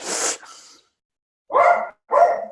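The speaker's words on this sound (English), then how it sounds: "My dog has an opinion on that." A dog gives one sharp bark followed by a softer trailing huff, then after a pause two more loud barks in quick succession, close by in an otherwise quiet room.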